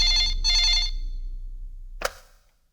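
An old-style telephone bell rings twice in quick bursts, close and clear, followed by a sharp click like a receiver being picked up.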